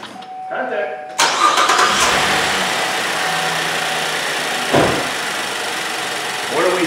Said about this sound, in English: then we'll start the car up